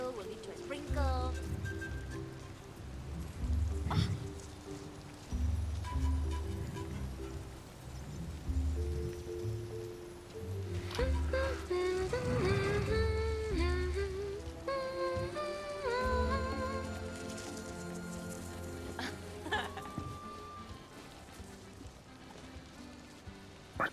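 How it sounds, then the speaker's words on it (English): Steady rain falls across the open world of the video game Disney Dreamlight Valley, a soft continuous patter under light tonal game music with character voices heard over it. "a drizzle will lead to a sprinkle."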